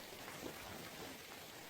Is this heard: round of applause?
no